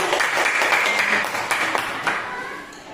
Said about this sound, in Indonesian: tepuk tangan untuk Naura